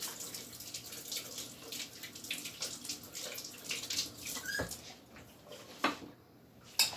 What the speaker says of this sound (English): after I rinse my spoon off here